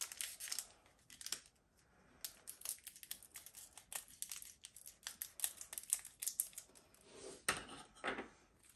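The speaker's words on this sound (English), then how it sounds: "I'm going to use scissors to cut the top off" Scissors snipping open the top of a cardboard Pokémon TCG Brilliant Stars box, a quick series of close, crisp cuts with crinkling in between, quiet and without voices.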